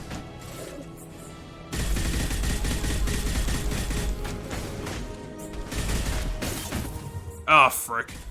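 Gunfire in the video game Mass Effect 2, a dense stretch of rapid shots and crashes that starts suddenly and runs steadily, ending with a sharp burst, while a player talks over it.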